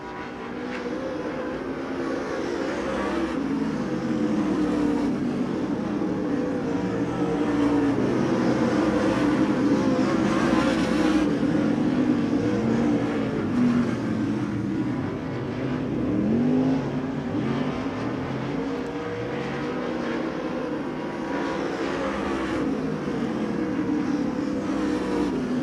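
Race cars in a dirt speedway heat race give a steady, loud engine roar that swells and fades as the pack circles, with no talking.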